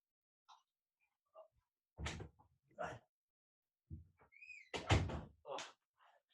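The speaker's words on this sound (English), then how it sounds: "open the door." A door nearby opened with a few separate thuds and clunks spread over several seconds, mixed with faint rustling and a brief squeak, in an otherwise quiet room with no talking.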